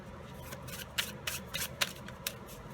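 A deck of tarot cards being shuffled by hand close up, with a run of crisp riffling snaps and soft sliding rustles in an uneven rhythm and no talking.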